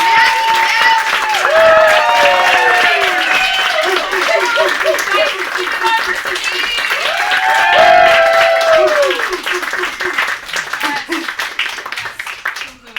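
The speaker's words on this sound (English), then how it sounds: "I want you guys to start clapping right now." Stand-up comedy crowd clapping and cheering for an act, dense loud applause with whoops and voices mixed in, thinning into scattered claps near the end.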